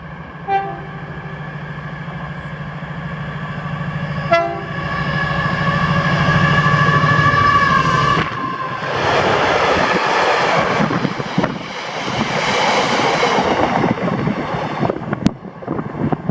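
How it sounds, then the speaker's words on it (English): An LNER HST passenger train from Inverness to Edinburgh passes Bridge of Allan station with a sustained horn blast, then a loud rushing roar of wheels and wind that swells and fades as the coaches go by. "here she came under 1Z46, the 1525 London North Eastern Railway service to Edinburgh from Inverness"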